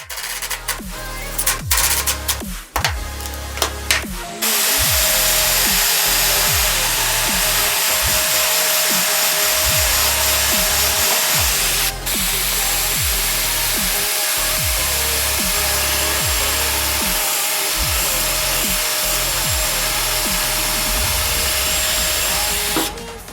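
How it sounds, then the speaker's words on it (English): A power drill whirs steadily and loudly close by, with repeated short bursts and pauses as 3-inch wood screws are driven into wood for floating shelves. "I'm going to use 3-inch wood screws, pre-drill the holes, screw them together"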